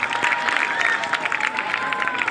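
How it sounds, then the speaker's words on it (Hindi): Dense, continuous clapping from an audience at a school judo demonstration, a close crowd applauding steadily with no break and scattered voices mixed in. "जोरदार ताली सब भल जोरदार ताली दिखाने धन्यवाद"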